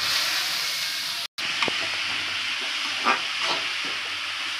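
Chopped onions sizzle in hot oil in a pan, a steady close hiss with a brief dropout and a few soft stirring scrapes.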